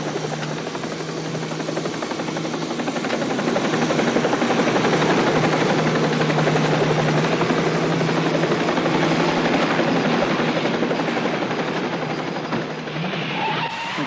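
Helicopter rotor chop and turbine drone from a police-drama chase scene, loud and steady for the whole stretch, close and continuous with no talk over it.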